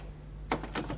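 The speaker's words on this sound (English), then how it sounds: "You can open the door for a minute." A door is opened indoors in a 1978 Scottish drama scene, heard as a short close scrape and clunk followed by a few quieter rattling knocks, with no voices over it.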